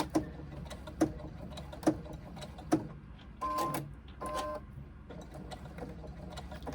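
A sewing machine stitches a fabric pouch in quiet, short runs, with periodic louder clicks and thumps as the needle and foot are adjusted, low and fairly close.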